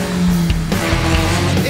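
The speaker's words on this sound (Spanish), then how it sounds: "es un derrape controlado" A powerful midget race car slides sideways on a dirt track, its loud engine roar and scraping, skidding tires close and continuous with a few sharp clunks, and a voice briefly audible beneath.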